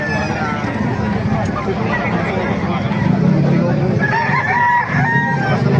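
Chickens cluck and a rooster crows amid a busy crowd of people talking at a gamefowl sale, with a steady background hubbub.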